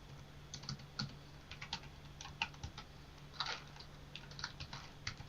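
Typing on a computer keyboard gives quick, irregular key clicks, fairly faint and close, pattering steadily with brief pauses over a quiet background hum.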